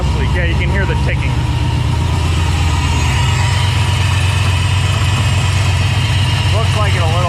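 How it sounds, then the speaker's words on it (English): A Dodge SRT-4 idling with an exhaust leak, a steady close engine drone with a fine rapid ticking texture, while people talk over it at the start and near the end. "Exhaust leak. Yeah, you can hear the ticking."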